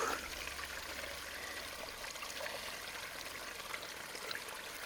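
A Traxxas TRX-4 Bronco RC truck drives slowly through shallow water on a forest trail, giving a faint, steady trickle and splash with no talk.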